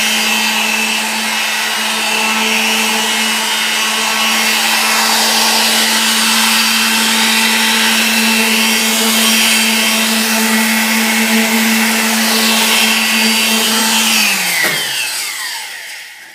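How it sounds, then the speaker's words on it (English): A quarter sheet sander runs steadily against the edges of a DIY cover for a Blackstone 28-inch griddle, a loud continuous whirring buzz with a droning hum that holds for about fourteen seconds, then winds down and stops. "going to take my 1/4 sheet sander here and just run it and break all these edges"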